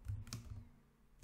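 Typing on a computer keyboard while editing code in VS Code, a short burst of a few soft keystrokes close by, with a quiet pause before one last tap.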